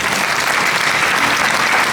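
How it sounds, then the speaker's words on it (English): A commencement crowd at Ivy Tech applauds outdoors in a loud, steady, dense burst of clapping with no pauses. "let's offer them all a round of applause"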